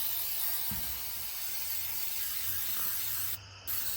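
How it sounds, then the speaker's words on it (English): A continuous, steady hiss of aerosol rust-protection coating spray runs throughout, briefly cutting out near the end before resuming. "You can just spray it all over everything."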